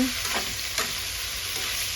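Sliced Japanese cucumber with egg stir-frying in a home kitchen pan, a steady continuous sizzle with soft scraping strokes of stirring, close and alone.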